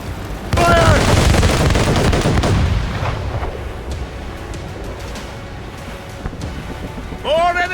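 Ship cannons in Assassin's Creed Rogue fire a heavy, booming broadside, with loud overlapping blasts rumbling and fading before another salvo, while shouted voices carry over the battle.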